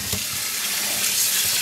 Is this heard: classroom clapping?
no